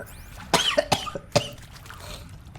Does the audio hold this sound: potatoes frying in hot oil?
no